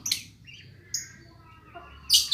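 Lovebirds chirp in a home aviary cage, giving a few sharp, high tweets spaced apart against near silence, close by.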